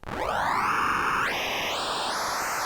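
A dense, hissing formant noise from the Soma Pulsar-23 synthesizer, with resonant vowel-like peaks that sweep upward in steps, sustained and loud throughout.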